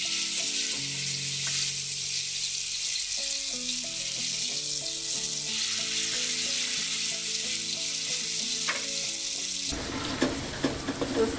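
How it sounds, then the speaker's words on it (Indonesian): Garlic and shallots dropped into hot oil for a chili preparation, sizzling in a steady crackling hiss under backing music, with a brief clatter near the end. "Setelah minyak sudah panas, kita masukkan bumbu bawang putih,"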